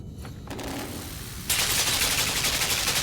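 Machine gun fire in the side-scrolling video game Limbo: a quieter rattling burst gives way midway to a loud, dense, continuous spray of rapid shots.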